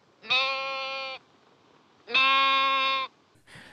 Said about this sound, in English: They hear the goat call.